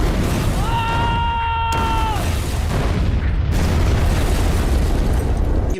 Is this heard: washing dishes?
no